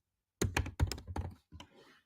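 Clattering keystrokes on a computer keyboard come in quick bursts and short pauses, close and fairly loud, with no voice heard.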